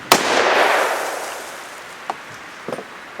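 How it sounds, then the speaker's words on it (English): A single loud gunshot at a rustic log cabin deer hunting camp, a sharp crack followed by a long rolling echo that fades, then a few faint distant pops. "I think it's time to shoot the gun one more time."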